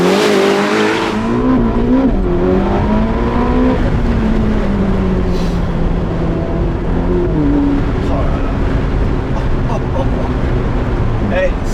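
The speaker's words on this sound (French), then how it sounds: "Alors je vais te faire un launch, regarde." A Ferrari SF90 Spider, a 1000-horsepower hybrid, launches hard under launch control, its engine roaring up through rising revs with a quick gear change, loud and close from inside the cabin, with voices partly over it.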